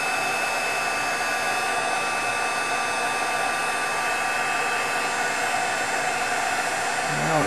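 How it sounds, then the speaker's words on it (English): A heat gun blows a steady, loud rush of hot air onto chili peppers, holding constant for several seconds before a slight rise at the end. "Okay, the heat tool again."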